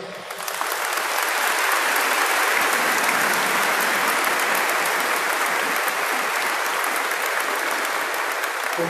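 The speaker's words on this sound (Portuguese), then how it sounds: "Palmas para eles." A congregation applauds at the episcopal ordination of Dom Frei Jesús María López Mauléon, OAR. Dense, steady clapping swells in within the first second and holds at full strength to the end.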